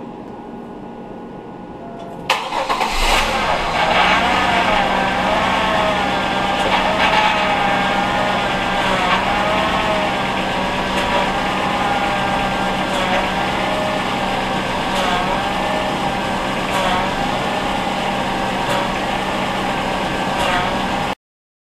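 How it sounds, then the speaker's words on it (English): A car engine idles steadily with a GM power steering pump being bled, a constant drone starting abruptly after a brief quiet moment and running on at even loudness to the end. "now start the car and move the wheels back and forth"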